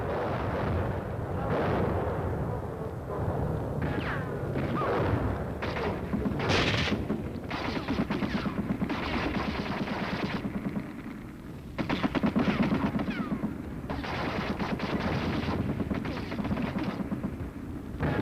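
U.S. Army artillery fires during a sustained forward drive, a dense rolling barrage of heavy booms and rumbling blasts that hit in repeated bursts throughout, loud and continuous with barely a gap.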